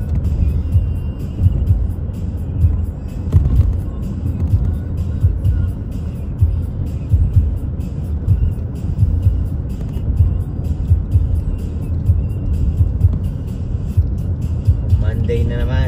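A car cruising steadily along an open road with no traffic on a commute to work in Canada, giving a loud, constant low engine and road rumble from inside the cabin while the driver talks over it.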